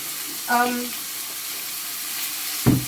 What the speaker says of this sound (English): we're going to stir fry a little bit, saute the garlic